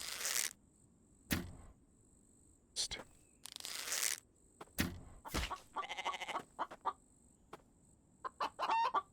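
Video game chicken clucking in short bursts between game sound effects, with a bow shot and a sheep bleat, no talking over it.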